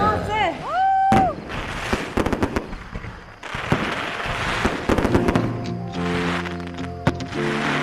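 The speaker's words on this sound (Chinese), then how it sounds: "放炮了！" Fireworks go off outdoors at a seaside wedding celebration, loud crackling bursts and sharp pops in dense volleys, with a brief whistle early on and voices reacting in between.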